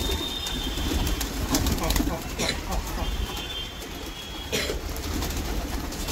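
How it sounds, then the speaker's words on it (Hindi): Pigeons kept by a hobbyist coo at a loft as they are let out, with soft, repeated low calls against a steady outdoor rumble and faint background noise. "और ये कबूतर खुल रहे"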